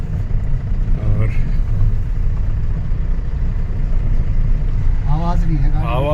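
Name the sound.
car engine running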